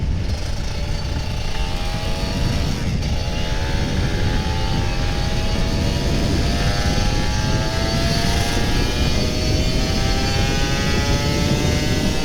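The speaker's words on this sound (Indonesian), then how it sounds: "Asik kan suaranya. Itulah ya gue suka dari dua tak ini." A Kawasaki Ninja RR 150 two-stroke motorcycle rides steadily on a morning road, its engine a continuous loud buzzing drone with rising and falling tonal whine, heard alone without talk for the whole stretch.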